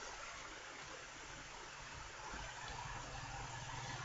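Flowing water in the Zelda video game The Minish Cap, a steady, loud broadband rush like a stream or waterfall that fills the whole stretch without pause.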